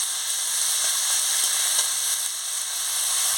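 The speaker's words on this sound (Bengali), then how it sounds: "সব সবজিগুলো দিয়ে দিচ্ছি, আলু, টমেটো, পেঁয়াজ, কাঁচা লঙ্কা কেটে রেখেছিলাম, সব দিয়ে দিচ্ছি। তেল গরম হয়ে গেছে" Chopped potatoes, tomatoes, onions and green chillies frying in hot oil for a fish chorchori, giving a loud, continuous close-up sizzle with a few faint stirring taps and no voices.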